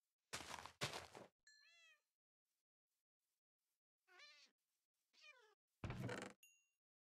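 Cat meowing in the video game Minecraft, several short, clear mews spaced across a quiet background, mixed with a few sharp thumps, no talking.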